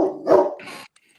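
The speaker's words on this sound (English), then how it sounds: "you're upsetting John's dog, Pete" A pet dog named Pete lets out a short burst of loud, close barks and a yip, alone with no talking, ending in a brief pause.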